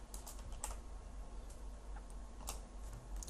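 Quiet, rapid keystrokes on a computer keyboard tap irregularly against a low background hum, with no one speaking.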